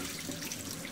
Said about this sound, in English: I'm going to rinse this corned beef off.